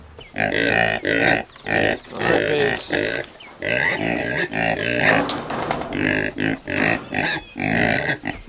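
Pigs on a small farm grunt and oink repeatedly in dense, overlapping bursts, loud and close, with a few short gaps between runs of grunting.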